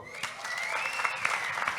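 A crowd at a gathering applauds for a young man named Caio, dense steady clapping from many hands, with a faint high whistle-like tone gliding across it.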